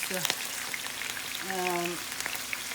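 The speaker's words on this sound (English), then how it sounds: "you can fry it like this" Steady crackling sizzle of chicken frying in a pan, with a faint voice briefly heard over the hiss.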